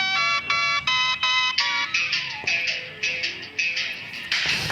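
Song playing through a GDM Hypersonic motorcycle helmet headset, a bright electronic melody of repeated tonal chimes in a steady rhythm, tinny and mid-loud without voices.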